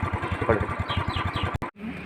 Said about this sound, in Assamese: বাইকখন অলপ ষ্টাৰ্ট দি দিছোঁ